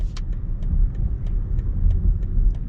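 Cabin of a 2022 BMW iX xDrive50 electric SUV while driving: low rumbling road and tire noise with faint periodic ticking, steady and close, no talk.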